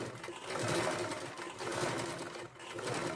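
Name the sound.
sewing machine stitching fabric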